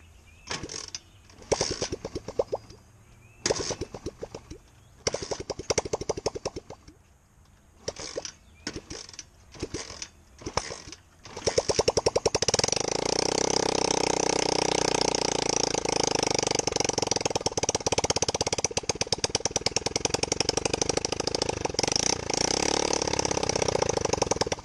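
An Apollo 125cc motorcycle engine, run without a muffler, is cranked in several short mechanical bursts, then catches and settles into a loud, continuous steady running drone.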